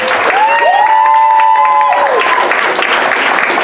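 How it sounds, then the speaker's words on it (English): Loud applause and cheering from a crowd at a Black History Month kickoff celebration, steady clapping with a sustained whooping voice riding over it. "I need you to give her a round of applause."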